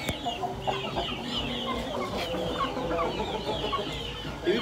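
A crowd of chickens and roosters clucking and calling over one another continuously, dense farmyard chatter at close to moderate distance with no talk.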